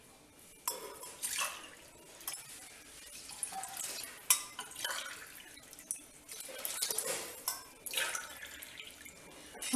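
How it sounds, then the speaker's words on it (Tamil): Water is poured from a cup into a pot of rice and soaked moong dal, three separate pours with splashing bursts and trickles, fairly quiet and close with short pauses between them. "இப்போ நான் 3 கப் தண்ணி சேர்த்துருக்கேன்."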